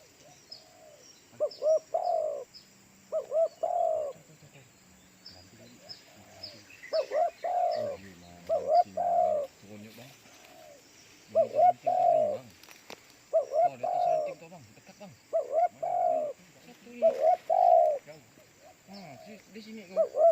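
Spotted doves coo repeatedly outdoors around midday during a bird hunt, in short rhythmic phrases with pauses between them, fairly close and clear against a quiet background.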